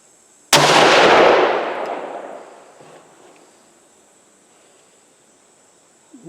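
One sharp rifle shot testing a Ramshot TAC powder load at an outdoor range, a loud crack followed by a long fading echo and then quiet.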